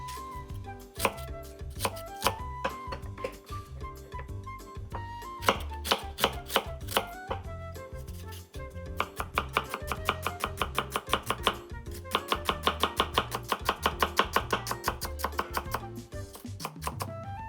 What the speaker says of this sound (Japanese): じゃまず玉ねぎです。 みじん切り、あんまりサイズ大きくない方がいいですね。